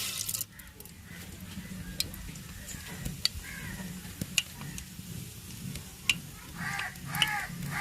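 Urad dal sizzling in hot oil in a pan on the stove, making a steady crackling hiss with sharp ticks and pops throughout, with a faint murmur of speech.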